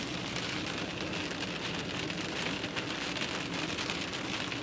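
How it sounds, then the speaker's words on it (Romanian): Steady rain falls between Gherla and Dej in Romania, a dense, even patter that holds at a constant level from start to finish with no voices. "Plouă de ceva vreme"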